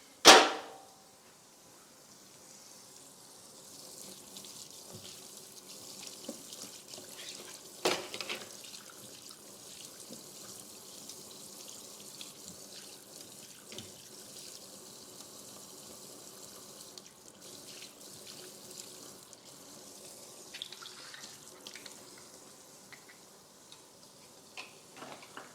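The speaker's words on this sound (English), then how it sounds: "Just rinse it and let it air dry" Water from a kitchen sink tap runs steadily over an item being rinsed, a soft continuous splashing hiss with a sharp clatter at the start and occasional small knocks, fairly quiet and alone.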